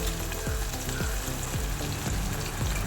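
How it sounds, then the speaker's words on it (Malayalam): Onion sautéed with crushed ginger and garlic in a hot pan gives a loud, steady sizzle, with repeated scraping stirs about every half second. "ഇഞ്ചി വെളുത്തുള്ളി ചതച്ചതും കൂടെ ആ ഉള്ളിയിലേക്കിട്ട് നന്നായിട്ട് വഴറ്റിയെടുക്കാം"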